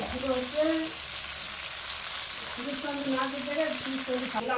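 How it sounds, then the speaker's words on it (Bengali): Chopped onions fry in oil with whole cumin for a Bengali mutton curry, a steady soft sizzle running throughout while someone talks over it. "এর মধ্যে কুচনো পেঁয়াজ আমি দিয়ে দিচ্ছি।"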